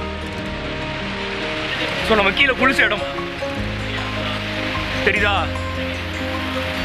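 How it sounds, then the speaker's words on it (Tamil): A small waterfall at Sadasiva Kona on a trekking route pours steadily, a constant rushing wash of water close by, while someone talks over it in bursts. "எனக்கு பின்னாடி ஒரு சின்ன நீர்வீழ்ச்சி இருக்கு"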